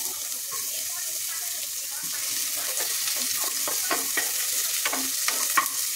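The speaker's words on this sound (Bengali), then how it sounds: "তেলের ওপরে দিয়ে দেবো পেঁয়াজ কুচি" Chopped onion fries in oil with whole spices, cumin, bay leaf and dried chilli, giving a steady bright sizzle with repeated clattering stirs of a spatula growing busier toward the end.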